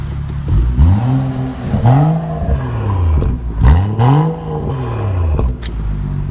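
BMW X4 M40 exhaust revved repeatedly in loud, rising and falling blips, several sharp throttle bursts close by with no talk.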